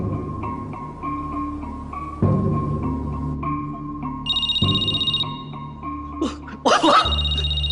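A telephone rings while a call is being placed, repeated short tonal ring bursts with a brief electronic trill near the end, heard over a murmuring room with a voice and some shuffling noise.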